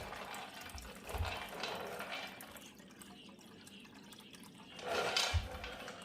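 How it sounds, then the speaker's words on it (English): Gas-thinned engine oil pouring into a drain pan during an oil change, a steady liquid splash and trickle close by with two louder gushing surges, no talking. "This drain pan is filling up real quick."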